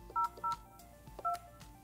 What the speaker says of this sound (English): dial the number you want to transfer the call to